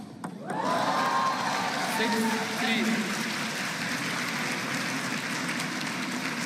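Audience applause fills a table tennis women's singles semifinal at US Smash, a steady broad wash of clapping after a brief quiet start, loud and sustained throughout.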